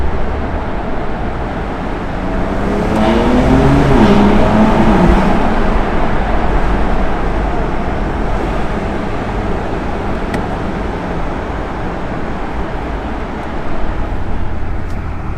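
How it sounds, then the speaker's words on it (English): A 2020 BMW M2 Competition engine roars steadily while accelerating through a tunnel, a loud, echoing drone with rising tone early on, sustained close and with no talking. "We're approaching a tunnel, so let's get some sounds."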